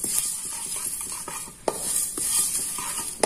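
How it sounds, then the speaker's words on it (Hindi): Fennel and ajwain seeds are dry-roasted and stirred constantly in a pan over low flame, producing a close, steady scraping and rustling with a faint sizzle. "अब हम इसको लगातार चलाते रहेंगे, तब तक भूनेंगे जब तक इसकी स्मेल अच्छी ना आने लगे।"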